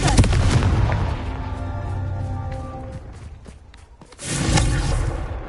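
Confringo fire spell blasts in the Hogwarts Legacy game, a loud booming explosion with a sustained rumbling roar, a brief dip, then a second strong burst near the end.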